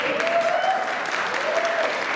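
A church congregation applauds, a dense, steady wash of many hands clapping that fills the room, with a faint voice underneath.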